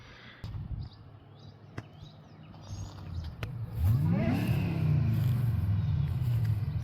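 A supercharged S197 Ford Mustang GT approaches from a distance and grows louder, its engine note climbing with a rising blower whine that sustains near the end.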